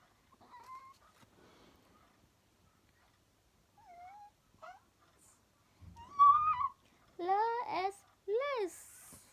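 A person vocally imitates a cat, giving several rising and falling meows, the loudest and most strongly voiced ones bunched toward the end, after quieter, scattered vocal sounds earlier.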